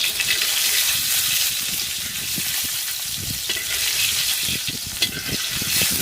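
Eggs fry in oil in a pan over an outdoor wood-fired clay stove at a pondside picnic, a steady close sizzle and crackle running without pause, with no talking.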